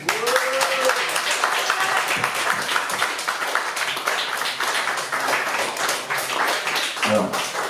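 A concert audience at La Zonmé in Nice applauds the performer, a continuous patter of many hands clapping at moderate distance with a few brief vocal sounds rising over it.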